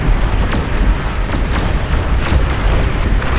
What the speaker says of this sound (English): Epic explosions everywhere.